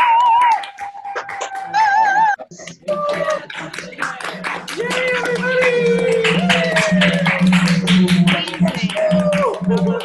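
Clapping from an online audience with microphones unmuted during a virtual arts event: a patchy mix of claps from several sources, with whistle-like tones early on and a steady hum beneath.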